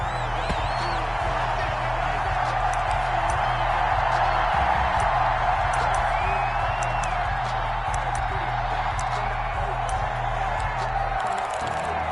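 Steady stadium crowd roar from a PS4 football game ahead of a Buffalo Bills versus San Francisco 49ers matchup, a continuous dense wash of cheering that holds evenly the whole way with no talk over it.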